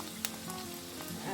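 Capsicum frying in a pan, a close, fairly quiet continuous sizzle with a few small pops and crackles over a short stretch, no voices.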